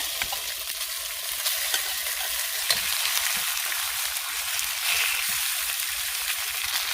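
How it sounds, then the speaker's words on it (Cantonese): Pork ribs pan-fry in hot oil in a wok over medium-high heat, giving a steady close crackling sizzle that runs unbroken and alone throughout. "排骨要煎一煎佢，我哋加啲油落隻鑊嗰度啊，燒熱咗隻鑊之後，用中大火煎"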